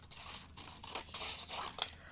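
Paper being cut with scissors to shape a small flower vase for a handmade junk journal card: a quiet run of crisp snips and light rustling scrapes, close and soft, with no talk.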